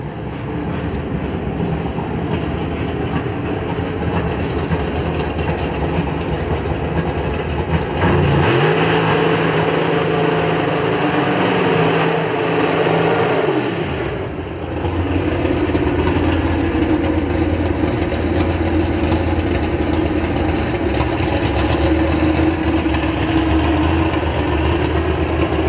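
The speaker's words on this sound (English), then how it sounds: "Mountain Motor Pro Stock coming up." Mountain Motor Pro Stock drag racing cars at a testing day at Darana Motorsports Park give off a steady engine drone, with a deeper engine note rising and holding in the middle before dropping away into the ongoing rumble.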